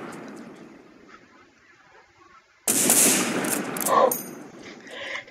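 Sudden loud bursts of gunfire in the Line of Sight first-person shooter game erupt after a quieter stretch of low background noise, continuing sharply for a few seconds.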